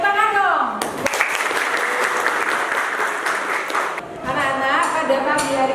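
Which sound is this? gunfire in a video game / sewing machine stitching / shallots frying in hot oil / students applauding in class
students applauding in class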